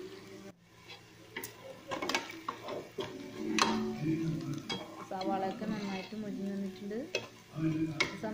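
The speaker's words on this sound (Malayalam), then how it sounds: "ഇഞ്ചി പച്ചമുളക് വെളുത്തുള്ളി പേസ്റ്റ് ആഡ് ചെയ്യണം അതുകൂടി ആഡ് ചെയ്തിട്ട് നമുക്കതിൻ്റെ പച്ചമണം മാറുന്നവരെ ഒന്നുകൂടി ഇളക്കി കൊടുക്കാം" Ginger, garlic and green chilli paste fries for mutton biryani, a low sizzle under repeated clinks and scrapes of a spoon against the pot, with a voice talking over it at times.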